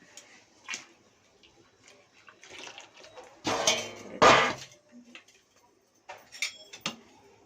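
A spoon scrapes and knocks against a pot while rice flour batter is stirred, giving scattered metallic clinks and a couple of louder clatters with quiet gaps between them.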